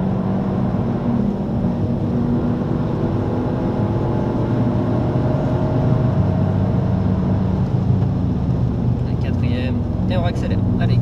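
A Peugeot 308 GTi on the Le Mans track, heard from inside the car as a loud, steady engine drone under acceleration with rumbling road noise, and people talking over it.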